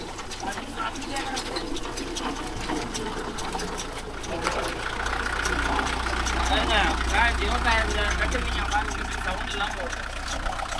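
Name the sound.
Kubota MU4501 tractor engine running at idle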